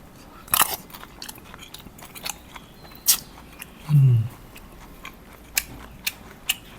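Curry noodles with crunchy greens, eggplant and long beans are bitten and chewed close up, giving scattered sharp crunchy clicks and one louder wet munch, with someone speaking briefly.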